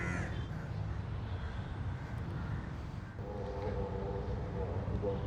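Crows caw a few times in the distance in Kuala Lumpur over a steady background rumble of construction, with faint voices mixed in.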